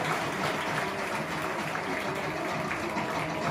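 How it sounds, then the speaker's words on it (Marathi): An audience claps at a felicitation and farewell ceremony for officials in Latur, a dense, sustained wash of applause that stays steady and fairly loud for the whole stretch. "त्याच्यामुळे टाळ्या जोरदार वाजवायच्या"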